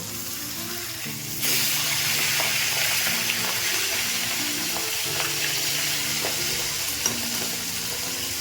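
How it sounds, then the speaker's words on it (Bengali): Continuous loud sizzling of a fish head frying in hot oil, steady throughout with occasional small pops and clicks. "দুই সাইডই মাছটাকে ভালো করে লালচে করে ভেজে তুলব"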